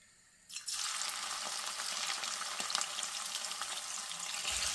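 Around 150 grams of shrimp heads, seasoned with salt, turmeric and chili powder, drop into hot oil. A sudden burst of sizzling follows and then a continuous crackling fry with small pops, fairly close and heard alone.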